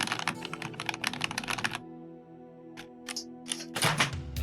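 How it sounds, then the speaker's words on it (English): Fast clattering keystrokes on an old computer keyboard, close and crisp, in a dense burst that pauses and then resumes with a few scattered taps and a final flurry. "This is my old keyboard."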